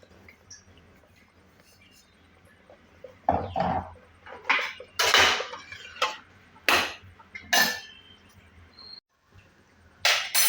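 A pressure cooker of rice upma is shut with its lid, the whistle left off, producing a series of close metallic clanks, scrapes and twisting rattles in bursts over a quiet kitchen background.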